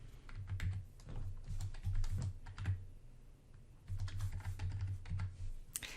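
Computer keyboard keys clatter in quick, uneven bursts nearby while a library card number and PIN are typed, with a short pause midway and no talk.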